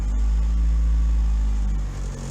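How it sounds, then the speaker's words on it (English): A car sits idling nearby with a steady low engine rumble while its automatic transmission is shifted through the gears with the brake held, after a transmission fluid drain and O-ring repair. "I'm just gonna hold the brake, shift it through the gears quick."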